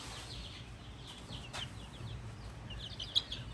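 A hen being vent-cleaned gives soft, scattered clucks and chirps close by, faint over a low background hum with a few sharper calls toward the end.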